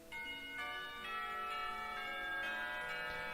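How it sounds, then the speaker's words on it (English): School bells from the visual novel Katawa Shoujo ring out for afternoon classes, a sustained, steady metallic chime with layered ringing tones and no talk over it. "The bells ring for the beginning of the afternoon classes and Rin stands up to make her way downstairs"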